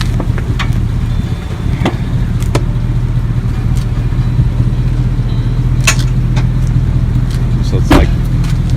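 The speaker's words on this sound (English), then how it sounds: "The truck's been running for about 13 and a half hours straight." A truck engine idles steadily up close at night in Canton, Mississippi, after running for hours. Its low, constant drone lasts throughout, with a few faint clicks and knocks on top.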